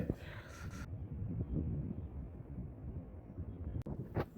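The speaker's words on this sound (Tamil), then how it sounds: "நல்ல ஈவினிங் டைம், நல்ல காற்று வீசிக்கிட்டு இருக்குது." Evening wind blows across a lake where people are fishing, a low, rumbling buffeting on the microphone with gusts rising and falling and a few faint rustles.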